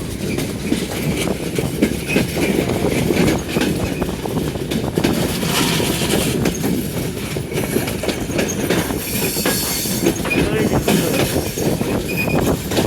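A Dinajpur–Dhaka passenger train rolls along with a loud, continuous rumble and rattle of wheels on track, heard from on board with voices faintly mixed in.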